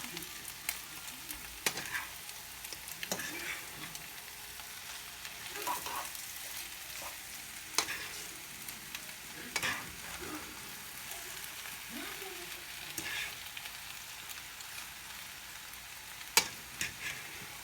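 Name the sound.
eggs frying and being stirred in a pan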